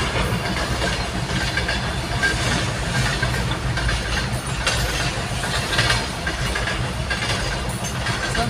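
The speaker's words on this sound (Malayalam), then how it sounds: "ഹായ് ട്രെയിൻ, ഗൂഡ്സ് ട്രെയിനാണ്." A goods train rolls past a railway crossing, a loud, close, continuous rumble with hiss and rattling wagons that holds steady the whole time.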